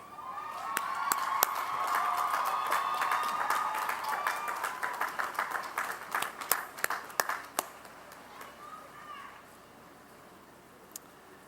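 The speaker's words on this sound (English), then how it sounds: "would you please stand and give those individuals a round of applause?" A commencement crowd for a college of agriculture at Cal Poly Pomona breaks into applause that builds, then thins into scattered individual claps and fades out, with some indistinct murmuring and tones early on, moderately distant.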